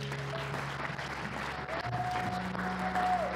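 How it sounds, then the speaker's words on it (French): A church congregation applauds and cheers for the King of Kings, a dense steady wash of clapping with a few voices rising through it, continuous for the whole stretch. "Est-ce qu'on peut acclamer pour le roi des rois?"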